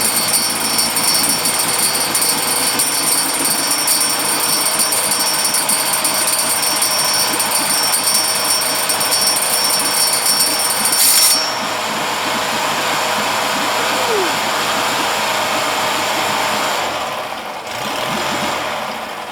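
A Honda 7.5 HP outboard motor, nearly fully restored, runs steadily in neutral with a continuous close mechanical chatter and rattle, its tone shifting partway through as the idle settles lower.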